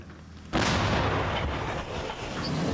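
A single powerful artillery gun blast booms suddenly near Pokrovsk, then a long rumbling echo rolls on without fading much.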